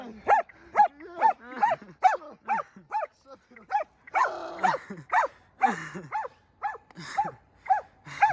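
A dog gives a rapid series of short, yappy barks close by, coming in quick bursts with brief pauses between.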